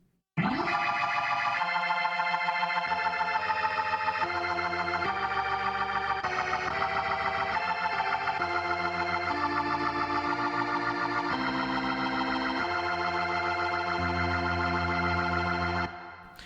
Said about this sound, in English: It sounds something like this if I were to play it on organ